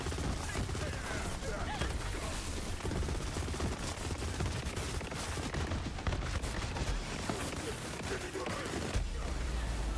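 Rapid gunfire from explosive pellets in the shooter game Borderlands 3 crackles in dense, continuous bursts of overlapping shots and impacts across the whole stretch, with a voice speaking briefly underneath.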